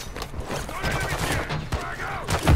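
Bursts of cover fire from automatic weapons in a video game, layered rattling shots mixed with battle noise and mechanical sounds, ending in a heavier thump.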